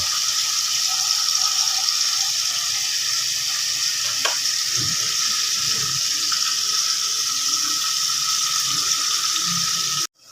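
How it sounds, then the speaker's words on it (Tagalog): Coconut milk bubbling and simmering in a pan for winged beans, a dense, steady hiss and sizzle with a few faint clinks and stirs underneath, continuous and close until it cuts off abruptly. "kumukulo-kulo na ang ating gata"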